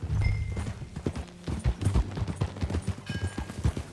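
A horse ridden in Red Dead Redemption 2 beats out quick, close clip-clop hoofbeats in an even galloping rhythm, with a few short snorts mixed in.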